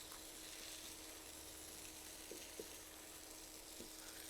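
Cut vegetables, including long eggplant, frying for a cauliflower curry in a pan, giving a quiet, continuous sizzle with a few faint clicks of stirring and no talking.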